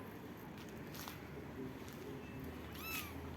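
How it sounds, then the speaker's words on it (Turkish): Faint, high kitten meows come through a few times over soft background noise and rustling. "Oyuncu kediler."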